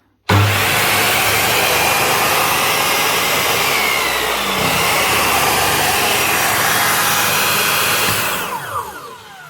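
A loud, steady motor whine from a Black & Decker miter saw, just repaired after a broken field coil, runs continuously for about eight seconds, then spins down near the end, idling without cutting.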